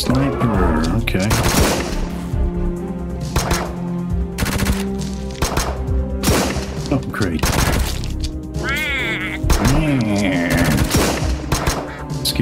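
Rapid sniper gunfire from the Brotato video game, loud and continuous, with repeated bursts and shots layered over game music and effects while a player speaks throughout.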